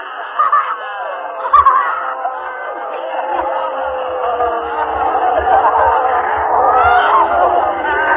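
Crowd of participants shouting and screaming together during an Osho dynamic meditation session, a loud, sustained, chaotic wall of voices with occasional louder yells and thumps throughout.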